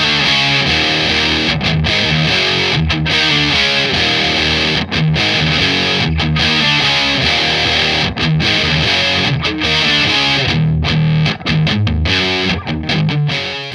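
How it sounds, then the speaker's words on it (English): Loud, continuous distorted electric guitar through a Boss DF-2 Super Feedbacker and Distortion pedal, playing chunky riffs with heavy saturation and sustained feedback-like tones, no voices. "Boss bring out the DF2 Super Feedbacker and Distortion."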